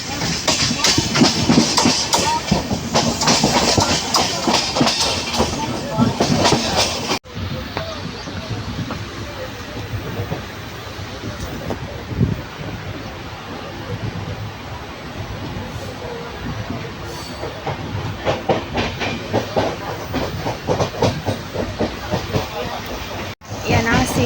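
A moving train rumbles steadily with rhythmic clattering of wheels on track, loud and close, with people talking over it at times.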